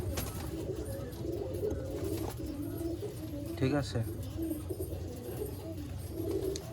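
Malwai pigeons in a Baruipur loft coo in soft, repeated rolling calls nearby, with a brief flutter-like burst midway and someone speaking briefly over them.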